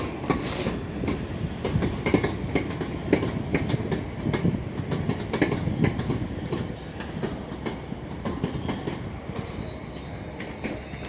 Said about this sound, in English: 35129 is off towards London Euston via Stoke-on-Trent.